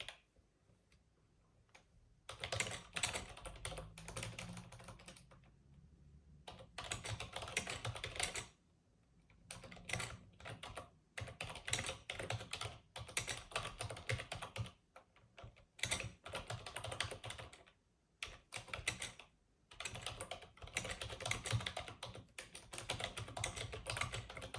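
Bursts of ASMR-style typing on a computer keyboard, rapid close-up key clicks in runs separated by brief pauses, steady and fairly loud with no talking.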